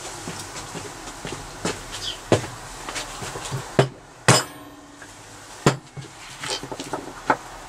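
A lump hammer strikes a wheel part on a Yamaha RS125 DX motorcycle during wheel bearing work, giving several sharp, loud metallic knocks at irregular intervals with quieter workshop handling noise between them.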